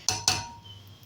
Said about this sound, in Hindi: इसको मैं ऊपर ढक्कन दे के इसका प्रेशर बाकायदा हमने लगाना है।